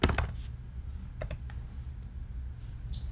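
Keys tapped on a computer keyboard while a search is entered, a few quick clicks near the start and a couple of scattered taps later, close and fairly quiet over a low steady background hum.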